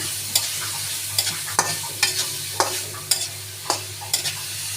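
Shrimp fry in a pan with salt, giving a steady soft sizzle punctuated by about ten sharp scraping clicks of a utensil stirring against the pan at roughly even intervals, with no talking.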